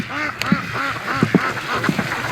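Ducks around a lake dock give a close, lively run of several quacks in quick, irregular succession, with no talk over them.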